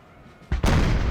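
A single heavy artillery blast erupts in Napoleon Total War, a sharp loud boom that rolls straight into a sustained, thundering roar as the barrage continues, with no voices over it.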